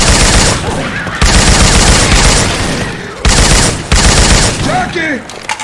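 Loud, sustained automatic gunfire in Left 4 Dead 2, modded with Syphon Filter weapon sounds, rattles in dense bursts separated by brief pauses, with faint character voices partly under the shots.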